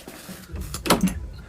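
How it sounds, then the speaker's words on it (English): A front door opens at home, giving a short burst of clicks and a scrape near the middle of a quiet indoor moment, with faint low room noise around it. "that's me opening my front door"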